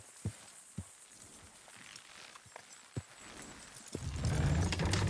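Horse hooves clip-clopping in Red Dead Redemption 2, a slow run of separate, fairly close hoof strikes, then a rough, busier rumble of movement near the end.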